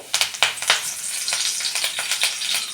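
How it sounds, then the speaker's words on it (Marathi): Curry leaves hit hot oil in a wok (kadhai) for a Konkani-style fresh cashew vegetable dish, bursting into loud, close crackling pops over a continuous bright sizzle, with no talking. "आता तेल गरम होऊन दे चांगला बघा कढीपत्तो टाकते"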